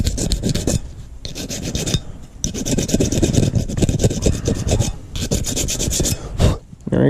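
Rust is scraped off automotive brake caliper shims in quick repeated rasping strokes, loud and close, with brief pauses between bursts.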